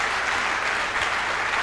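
A church congregation applauding and cheering during a sermon, steady dense clapping filling the room with faint voices mixed in.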